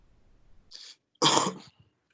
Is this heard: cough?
yes